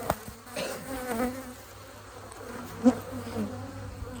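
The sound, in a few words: honeybees buzzing in an open beehive colony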